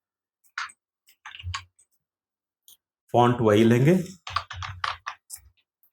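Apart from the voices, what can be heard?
typing on a computer keyboard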